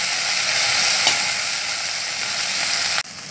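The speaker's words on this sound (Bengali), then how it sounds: "এই দেখছেন ভাজা হয়ে গেছে" Chopped tomato, garlic and ginger frying in mustard oil, sending up a steady, loud, close sizzle that lasts several seconds and then drops off suddenly near the end, with no talk.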